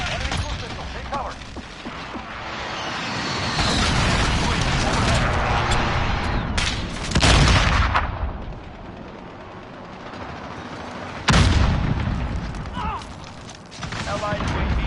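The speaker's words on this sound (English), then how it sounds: "Enemy cruise missile. Take cover." Cruise missile explosions in a Call of Duty match: a continuous din of gunfire and rumbling, broken by two heavy, loud blasts a few seconds apart.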